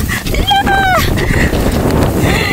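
Strong wind buffeting the microphone with a low roaring rumble, while a voice talks briefly over it.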